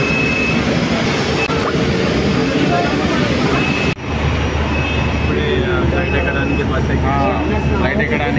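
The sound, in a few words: airplane jet engine at airport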